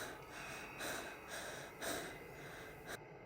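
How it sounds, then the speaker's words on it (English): Quick, shallow breaths puff in and out in a steady rapid rhythm, soft and close, with faint gasping bursts and no talking. "and her quick, shallow breathing."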